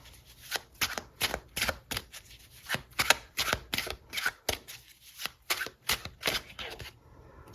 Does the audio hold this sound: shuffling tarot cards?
yes